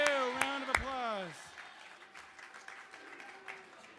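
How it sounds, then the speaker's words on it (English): Audience at an inauguration ceremony applauding the outgoing Kid Governor, soft, diffuse clapping that follows a voice at the start and continues steadily at a modest level. "Round of applause"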